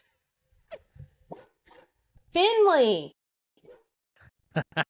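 Dogs barking at home in a few sharp bursts with a howling, whining stretch in the middle, fairly close, between brief bits of a woman's speech.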